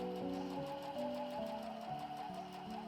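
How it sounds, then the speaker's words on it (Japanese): A sewing machine stitches the lining fabric of a shoulder bag, its steady rapid needle rhythm running continuously and close up, with no talking. "そしたら最初に裏布を縫いますよ。"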